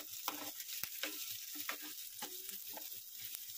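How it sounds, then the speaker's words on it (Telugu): Curry frying in a pan gives a soft, steady sizzle, joined by quiet scraping and tapping from stirring, all faint and close with no talking. "మంచిగా ఫ్రై చేసుకోవాలి."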